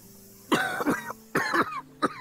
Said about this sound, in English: Just a pesky little cough.